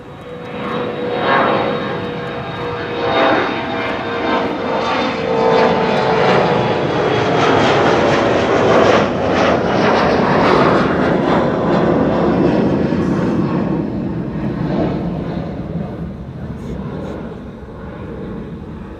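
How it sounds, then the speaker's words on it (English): An SAS CRJ regional jet takes off from Amsterdam Schiphol, its engines building to a sustained, loud roar with a whining tone, holding steady before easing off slightly as it climbs away. "Next airplane taking off is a CRJ. CRJ from SAS to Copenhagen"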